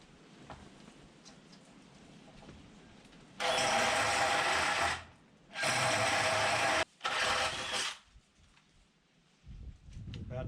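Battery-powered tool cutting out the middle of a wooden light fixture, three loud sustained bursts of whining, grinding cutting with short pauses between, then quieter workshop noise.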